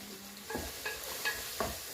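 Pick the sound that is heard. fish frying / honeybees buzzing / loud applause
fish frying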